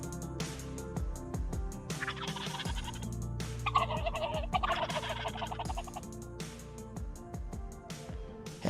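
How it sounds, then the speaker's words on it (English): Wild turkeys gobble repeatedly outdoors during spring turkey season, mixed with jake-style yelping calls. The loud, overlapping bursts ring out over an open field. "I do a little Jake yelping and gobbling at them"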